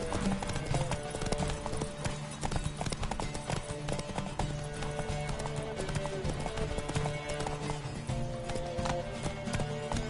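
Horse hooves clip-clopping at a fast gallop in The Witcher 3 video game, a dense continuous drumming of hoofbeats with occasional snorts and game sounds layered over it, loud and close throughout.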